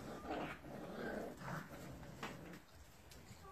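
Low, rumbling puppy growls, close by, rising and falling in short bursts before trailing off into quiet.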